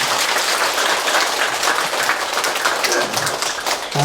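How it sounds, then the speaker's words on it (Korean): An audience at a Buddhist dharma service in a temple hall claps in steady, dense applause that lasts throughout. "지금 감사의 큰 박수 부탁드리겠습니다"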